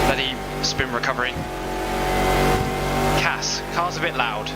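A race car engine roars in a Le Mans video game, a loud, steady drone that swells in the middle while someone talks over it at the start and end.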